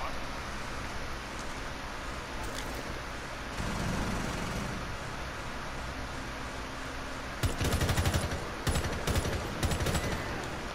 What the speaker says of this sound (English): Rook was shooting a little fast, I think